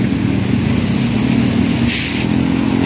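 A pressurized machine runs at a cleanup site, its engine producing a steady, loud low hum with a slight hiss layered on top, continuous and close without pause.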